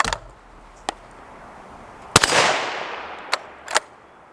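A suppressed Ruger American Ranch rifle in 300 Blackout fired outdoors, several sharp muffled cracks, one followed by a long fading rumble or distant impact, with quiet gaps in between.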